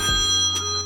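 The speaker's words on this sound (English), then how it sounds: "And you got the perfect ringtone for this." A phone ringtone sounds in a house being toured, a steady electronic tone with a sustained hum and a short burst, loud and close for under a second.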